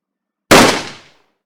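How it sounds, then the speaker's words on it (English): A single sharp rifle shot from the visual novel The Labyrinth of Grisaia cracks out loud and close after a moment of silence, then decays quickly into a short reverberant tail. "The lightweight bolt burst out of my rifle barrel"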